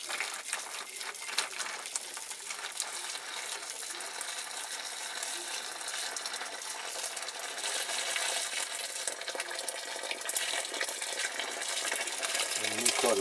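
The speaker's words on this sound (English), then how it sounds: "going to put the hot water in for the caustic soda." Hot water pours steadily into a container for a caustic soda bath, a bright hissing splash that grows slightly fuller and louder as it fills.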